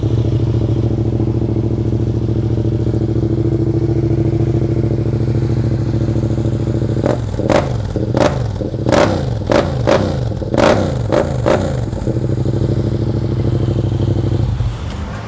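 A motorcycle engine idles steadily, then revs sharply in a series of quick throttle blips before settling back to a loud idle, close to the microphone.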